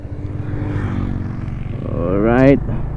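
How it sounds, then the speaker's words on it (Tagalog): Yamaha Sporty motorcycle engine running smoothly on the road, a steady low drone under wind that rises in pitch as the bike accelerates, then drops off, with a rider talking over it. "Yung makina niya napaka-smooth pa din ng tunog"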